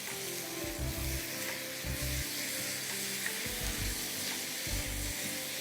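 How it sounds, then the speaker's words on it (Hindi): Minced beef with onions frying in a pan, a continuous close sizzle with repeated low scraping knocks of a spoon stirring through it. "और इसको आप खूब अच्छी तरह भूनिए।"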